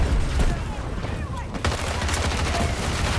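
M16A3 rifle fire in the video game Battlefield 2042: rapid bursts of gunfire with booming reports, loud and dense, under a player talking.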